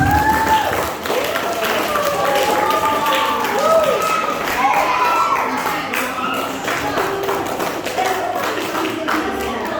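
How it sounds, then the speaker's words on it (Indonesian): Audience applause fills the room after a leadership training session for a junior high seminary student council, a steady wash of clapping with voices and some cheering mixed in throughout. "mari kita berikan aplaus untuk Pak Pastor yang sudah membawakan kita"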